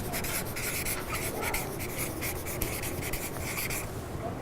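Pen scratching words onto a paper chart in a classroom, close and distinct: a run of quick scribbling strokes and brief pauses over a steady room hiss, with no talking.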